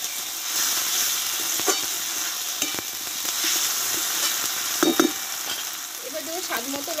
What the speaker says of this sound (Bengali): দিয়ে ভালোভাবে কষতে থাকবো আমি